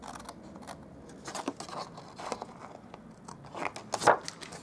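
Scissors cutting cardstock for a Stampin' Up baker's box, a series of quiet crisp snips and paper crinkles, irregular and close, growing a little louder toward the end.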